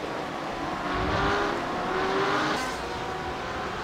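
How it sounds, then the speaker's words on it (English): BMW GTE race cars dueling at Autodromo Nazionale Monza in iRacing, engines droning and revving steadily together, close and sustained, with a faint tire squeal late on. "A couple of BMWs battling back here"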